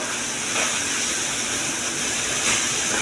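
Bitter gourd with tomato and ground spices frying in a pan as it is stirred, giving a steady close sizzling hiss throughout with no voices.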